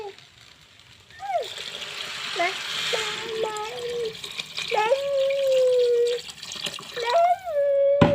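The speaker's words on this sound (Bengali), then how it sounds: "এখন আমি পরিমাণ মতন পানি দিয়ে দিব।" Water poured into a cooking pan over fried ingredients, a splashing gush heard under a voice that talks and hums through most of the stretch.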